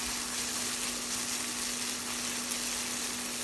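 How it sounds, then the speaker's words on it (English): Minced garlic and green onions fry in hot oil over high heat, giving a steady, faint sizzle with a faint constant hum underneath. "When the oil is hot, add the minced garlic and green onions to fry over high heat"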